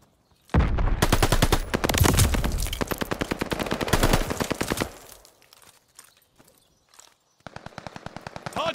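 Rapid machine-gun bursts crackle at a hardpoint during a video game shooter match, loud strings of shots roughly four seconds long, then a lull with scattered faint pops before another fast burst starts up.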